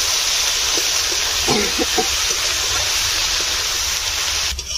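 Water poured into veg momo dough in a home kitchen, a steady broadband hiss like a running stream lasting the whole stretch, with faint soft sloshes partway through and no talking.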